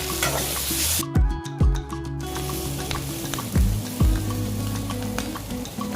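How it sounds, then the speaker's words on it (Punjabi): Spices roasting with a steady loud sizzle in a pan for a capsicum and besan curry, broken by several sharp scraping stirs of a spoon. "ਥੋੜੇ ਜਿਹੇ ਮਸਾਲੇ ਨੂੰ ਆਪਾਂ ਸੇਕ ਲਵਾਵਾਂਗੇ"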